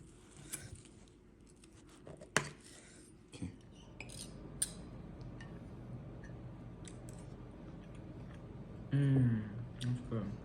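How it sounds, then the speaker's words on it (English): Knife slicing a medium rare elk steak on a board for serving, with scattered sharp clicks and scrapes of the blade and cutlery, and a voice speaking briefly near the end. "Gonna go ahead and slice that up and serve it."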